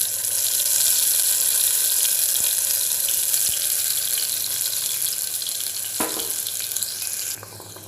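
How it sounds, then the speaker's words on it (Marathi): Ground spice paste for a Maharashtrian patodi rassa hitting hot oil, giving a steady, loud bright hiss that holds evenly for several seconds, then briefly flares and drops off near the end. "तेलामध्ये हे वाटण टाकले"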